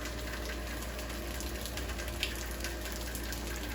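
Water leaks in a flooded apartment, heard as a steady, faint rushing hiss of running water that continues unchanged throughout.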